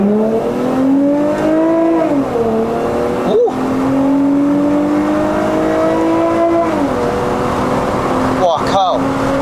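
A remapped Lexus IS250 XE20 is driven at full throttle, its engine note climbing steadily through the gears with brief dips at each shift. The sound is loud and close from inside the cabin, and voices are also audible.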